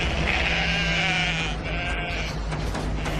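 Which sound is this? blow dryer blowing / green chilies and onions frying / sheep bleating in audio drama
sheep bleating in audio drama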